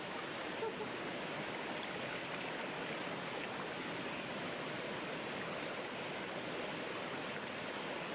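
Flowing water at a blue lagoon in Pola makes a loud, steady, broadband rush close by, continuous throughout with no pauses.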